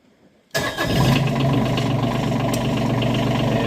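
Bobcat MT100 mini track loader engine starts abruptly after an oil change and settles into a steady, loud idle with a continuous low rumble close by, no talking.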